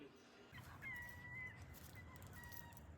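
A bird calls with thin, drawn-out whistling notes, repeated a few times at moderate distance over a low background rumble.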